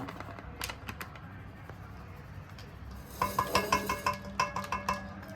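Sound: mixing maida flour dough by hand

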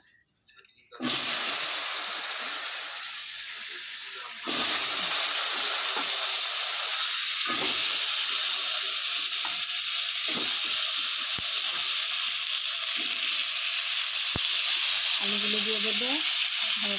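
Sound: potatoes frying in hot oil

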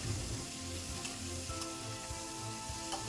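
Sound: stirring pointed gourd with prawns in a pan

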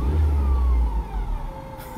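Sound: car engine revving

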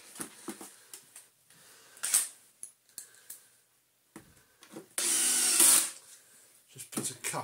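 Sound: driving screws into a vintage Miele vacuum cleaner

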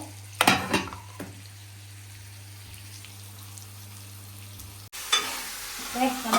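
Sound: frying in oil for crab curry

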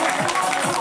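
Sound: applause at company sports day

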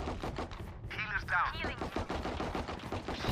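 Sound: gunfire in the video game Valorant

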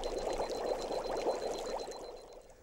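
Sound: water boiling into steam

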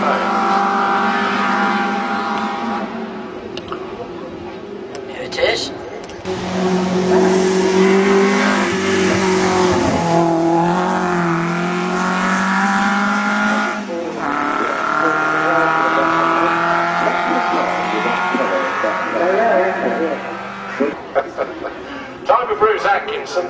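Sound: Alfa Romeo classic car racing at Shelsley Walsh hill climb

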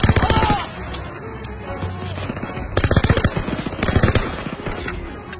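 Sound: SMG gunfire in the video game Call of Duty

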